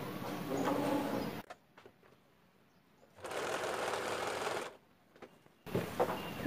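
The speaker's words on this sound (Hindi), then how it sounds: "ऐसे मैं यहाँ से सिलाई दूंगी।" An electric sewing machine stitches a frock's front and back pieces together in three runs of fast, steady whirring, separated by quiet pauses with light fabric handling.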